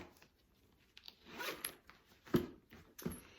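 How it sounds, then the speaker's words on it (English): A zipper on a sewn concealed-carry bag with two zipper heads is pulled shut in several quick, close rasping strokes, each a short burst with pauses between, and no talking. "When you zip it up and turn it around, you will see that you have a zipper pocket on the outside as well."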